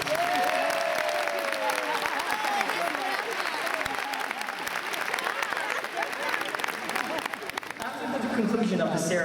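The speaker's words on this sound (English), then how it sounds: "Give her a round of applause, please." Sustained audience applause fills a high school graduation ceremony for the 2016 valedictorian speech, a dense steady wash of many hands clapping with crowd noise and a voice briefly over it.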